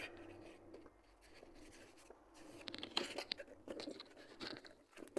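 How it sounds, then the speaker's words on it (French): Fine 800-grit sandpaper with a film of oil rubs against metal on a Peugeot 305 in scratchy, uneven strokes, quiet and close, with some pauses between passes. "tu prends du papier à poncer, là, c'est du 800."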